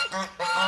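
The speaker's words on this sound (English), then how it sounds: "The geese are very loud." Geese honk loudly on a muddy farm, two long harsh calls close by with a brief dip between them, no talking.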